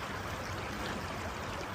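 River rapids rush in a constant loud, dense roar of flowing water, steady and close throughout with no break.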